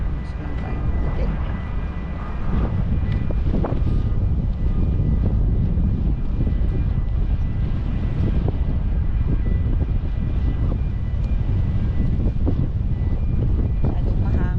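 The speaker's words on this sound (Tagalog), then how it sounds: "Masyadong mahangin." Loud, steady wind roaring and buffeting against the microphone on a walk from Mqabba to Birzebbuga, Malta, with muffled voices talking underneath.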